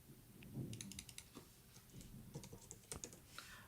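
Quiet, close typing on a computer keyboard: bursts of quick key clicks and taps in an uneven rhythm, with no voices.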